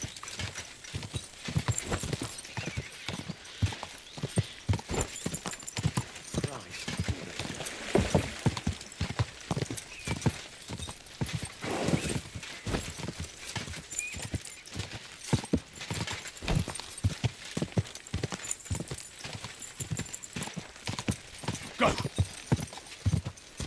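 Horse hooves clip-clop continuously in the medieval video game Kingdom Come Deliverance 2, a steady rhythmic stream of close, moderately loud hoofbeats lasting the whole stretch with a faint background bed.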